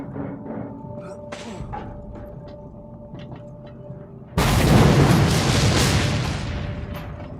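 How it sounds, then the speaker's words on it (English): A loud blast goes off in the video game Mad Max. Quieter engine and ambient game sounds come first, then the explosion bursts in abruptly and its rumble slowly fades. "Well, big explosion, but not much effect."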